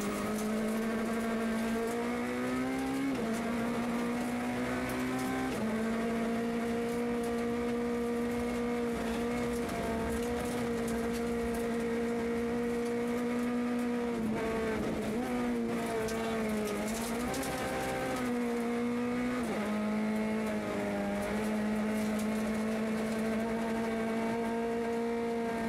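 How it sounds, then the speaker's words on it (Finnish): A Peugeot rally car on a special stage of a Finnish rally in Kitee, its engine droning steadily with rising and falling pitch as it shifts and revs, heard continuously and fairly loud without speech. "Jo edellisellä kaudella uudella Peugeotilla hyviä aikoja nakutellut ja kärjessä viihtynyt Laureen ajaa ykköselle toiseksi parhaan ajan"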